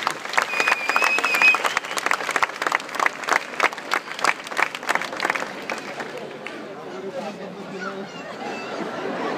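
A crowd in the town square of Muro Leccese claps loudly at an open-air comedy show, the applause strong at first, then fading after about six seconds into murmuring chatter and a speaking voice.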